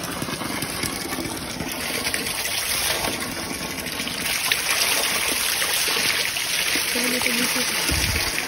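Water flows steadily at a natural spring, a continuous close rushing and gurgling wash that grows slightly louder midway, with faint voices in the background.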